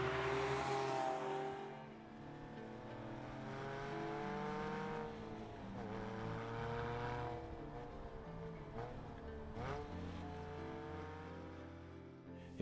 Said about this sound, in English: I drive a 2012 911 Carrera GTS B59 edition.